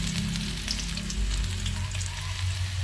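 Onion frying in a hot pan gives a steady, close sizzle and crackle with some stirring, and no one speaks.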